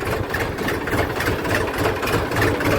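A tractor engine idles nearby, giving a steady, even low rumble with a faint rhythmic chug and no voices over it.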